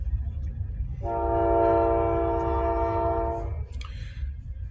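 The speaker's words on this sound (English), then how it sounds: "Just wait till the train passes." A passing train sounds a long, steady horn for about two seconds over a constant low rumble of the rolling cars, fairly near and loud, with no talk.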